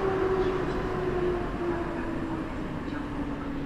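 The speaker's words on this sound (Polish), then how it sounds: "za chwilkę będzie z sąsiedniego peronu startować kolejny skład" A train pulls out from a platform at Warszawa Zachodnia station with a steady rumbling roll and a faint sustained tone, heard continuously at moderate distance.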